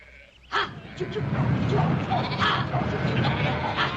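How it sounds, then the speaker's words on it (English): Sheep bleat repeatedly over a noisy outdoor commotion, with men calling out nearby as they drive the sheep off. "Now, Drummond, get those sheep out now."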